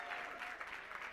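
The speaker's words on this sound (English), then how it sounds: "It deserves a round of applause." Short burst of applause from a room full of people at a youth-owned brands awards event, a soft, steady patter of clapping heard briefly.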